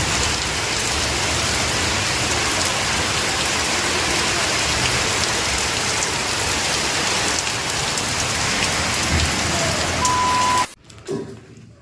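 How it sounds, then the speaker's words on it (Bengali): Heavy rain pours down in a dense, loud, continuous hiss, with no voices over it, then cuts off sharply near the end. "বিরাট বৃষ্টি হচ্ছে"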